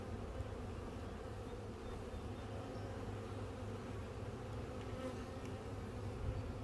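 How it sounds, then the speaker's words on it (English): Dense, steady buzzing of many honeybees swarming close by in a bee yard, a continuous hum with no pauses. "Bees, bees, everywhere bees."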